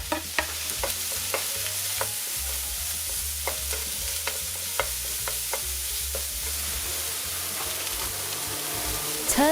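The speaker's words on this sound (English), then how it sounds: "start stir frying the garlic and shallots on medium heat until they're fragrant" Garlic and shallots sizzle and crackle steadily in hot oil over medium heat, with repeated scraping and clinking as they are stirred in a pan.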